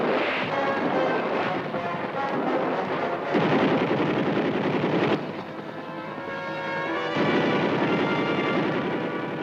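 Combat in the Vietnam War, with enemy forces firing from the cover of buildings: a dense, sustained roar of gunfire and explosions, loud and continuous, with its intensity shifting in broad waves over a constant noisy backdrop.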